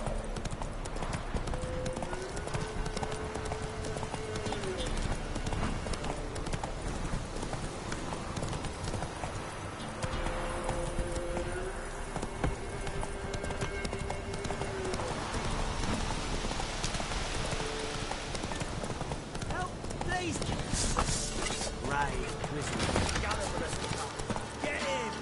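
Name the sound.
horse Roach galloping hooves in video game Witcher 3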